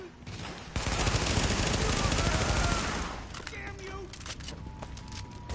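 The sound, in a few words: gunfire in the video game The Division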